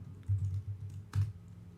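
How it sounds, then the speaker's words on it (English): Typing on a computer keyboard: two short, close bursts of key clicks in quick succession, alone and fairly clear. "I'm going to start out by typing out last episode's tiny Python program."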